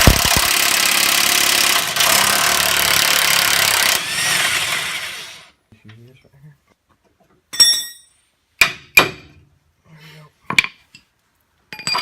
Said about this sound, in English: So now we're just unbolting the bottom 2 bolts on the bottom A-arm